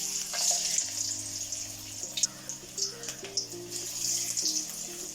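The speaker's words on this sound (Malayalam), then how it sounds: "ഇനി നമുക്ക് ഇത് ഫ്രൈ ചെയ്തെടുക്കാം. കാബേജ് മിക്സ് ഇട്ട് കൊടുക്കാം." Cabbage vada fries in hot coconut oil with a steady, soft sizzle, accompanied by quiet background music with sustained tones.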